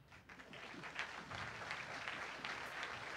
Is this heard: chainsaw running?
no